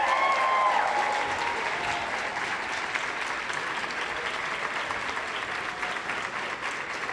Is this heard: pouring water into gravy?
no